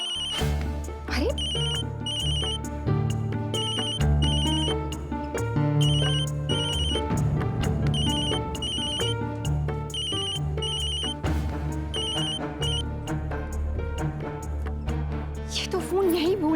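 A phone ringtone plays repeatedly in a steady electronic melody, mixed with background music and voices throughout.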